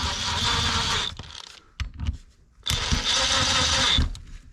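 A ratchet tightens the bolts on the power steering pump of a Nissan 300ZX in two bursts of rapid, buzzing clicks close up, separated by a short pause with a few handling knocks.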